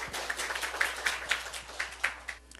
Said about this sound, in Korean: 우리 하나님께 박수 올릴게요